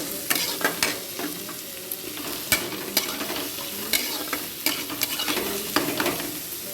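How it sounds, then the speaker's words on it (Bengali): Onion and garlic stir-fry in hot oil with a steady close sizzle, and a spatula scrapes and knocks the pan in irregular sharp taps throughout. "পেঁয়াজ রসুন দিয়ে দেবো দিয়ে ভালো করে নেড়ে চেড়ে নেবো ভেজে নেবো ভালো করে"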